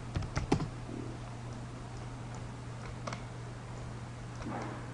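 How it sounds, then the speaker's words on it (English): A few quick taps on a computer keyboard while a command is typed into Rhino 3D modeling software, light clicks clustered near the start with a steady low hum underneath and no talking. "I will type in hide"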